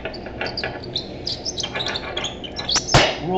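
Short, high-pitched squeaks repeat quickly and irregularly at close range, ending with a sharper squeak and a brief clack.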